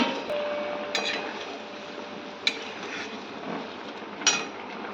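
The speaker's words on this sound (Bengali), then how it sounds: "এবারে ঢাকনাটা খুলে দিচ্ছি" A lid is lifted off a cooking pot of rice and okra, with three short metallic clinks spaced apart over a steady, hissing background.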